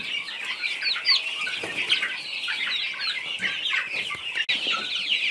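Chickens in a backyard coop cluck and murmur continuously at close range, a busy stream of short rising calls with a faint flutter of wings, and no one talks.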